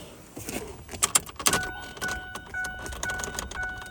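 Test key jiggled and rattled in the ignition of a Ford F-150 pickup, close metallic clinks and jangles with a few sharper clicks, a faint electronic chime repeating in the background.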